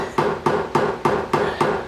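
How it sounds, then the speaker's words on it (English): A hard plastic-headed hammer drives frets into the fingerboard of a 1918 to 1920 Gibson L guitar, six evenly spaced close taps in a steady rhythm, each a dull knock with a brief ring. "this is a plastic head on this hammer"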